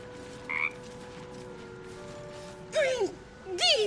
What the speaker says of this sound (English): and then talk to the frog.